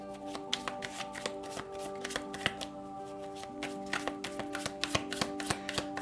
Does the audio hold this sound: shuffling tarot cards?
yes